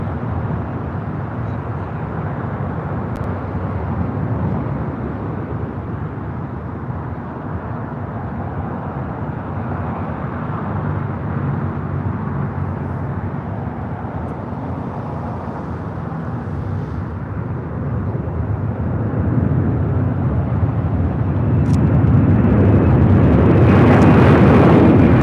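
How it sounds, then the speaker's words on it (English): China Airlines cargo Boeing 747 on its take-off roll at LAX, a distant low rumble that swells steadily and grows louder toward the end, with no talk. "China Airlines cargo Queen and now rolling down at 25 at right."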